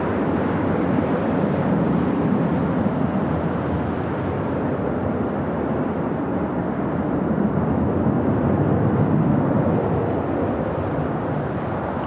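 A Delta Airlines Airbus A321neo arriving at LAX, a steady, loud, broad jet roar holding constant throughout with no pauses and no one speaking over it.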